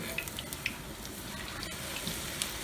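Fry bread dough cooks in hot oil, a steady, fairly quiet bubbling hiss with occasional small pops and crackles scattered through it, heard alone.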